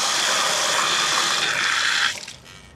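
Water gushes hard from an inground sprinkler line in a loud, steady rushing spray, then cuts off abruptly near the end, leaving only a faint trickle and dripping.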